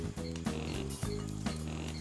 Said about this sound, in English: Those sound like pigs, right? But they're not. Those are ground lemurs.